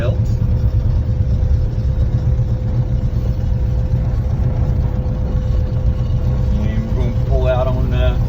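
A 1966 Ford Fairlane with a swapped-in Cummins diesel engine drives on the road, producing a loud, steady low engine drone and road rumble inside the cabin, with someone talking near the end.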